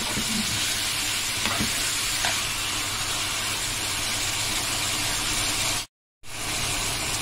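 Alexandrian-style liver with hot peppers fries loudly in a pan, a dense continuous sizzle with light scraping as the pieces are turned. The sound cuts out briefly near the end.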